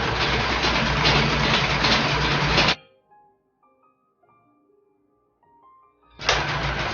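A sewing machine stitching a seam on a straight long skirt, a loud close motor whir that runs, stops abruptly for a few seconds of near silence, then starts again, with no voices.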